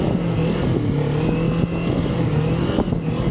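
Motorcycle engine revving while being ridden, a steady loud drone with a shifting pitch that rises and falls continuously, close and alone with no voices.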